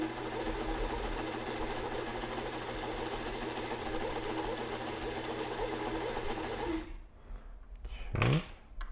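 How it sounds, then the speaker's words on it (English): A sewing machine runs continuously stitching a muslin strap for a hat, a steady mechanical whir and rattle that stops abruptly near the end, followed by brief quiet handling noises. "28 something worth of just pure stitching"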